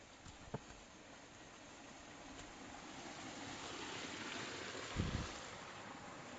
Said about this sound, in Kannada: ನೀರು ಇಲ್ಲೇ ಬಿದ್ದು ಹೀಗೆ ಕೆಳಗಡೆ ಹರಿದು ಹೋಗುತ್ತೆ ನೋಡಿ.